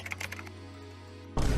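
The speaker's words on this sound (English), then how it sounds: "We're just gonna start simple here and type in this." Keys tapped on a computer keyboard while a question goes into ChatGPT, a short run of light clicks up close that stops, followed by a louder burst of broadband noise at the end.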